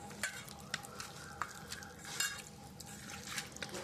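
Mutton is worked together with ground spices and a spice paste, giving soft, close wet squelches and light taps at an even pace over a quiet background.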